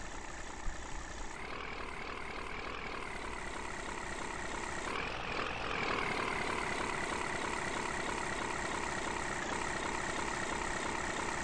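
A steady idling engine of an AmTran B800 school bus in the Rigs of Rods driving game, a loud continuous rumble with a dense whine that holds throughout and swells slightly partway through, with no talking.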